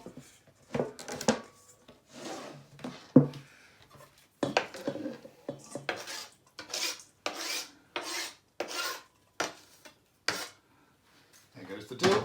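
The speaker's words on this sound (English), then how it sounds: "put all the ingredients into one bowl" Gravlax ingredients such as dill, white pepper, salt and sugar being tipped and scraped into one bowl, with repeated close rasping, rubbing and clinking of utensils against the dish in an irregular rhythm.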